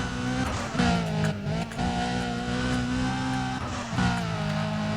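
A racing car in Need for Speed: Undercover, fitted with race parts, drives with a loud, steady engine drone that keeps shifting pitch as it revs and changes gear. Brief tire noise comes through and nobody talks.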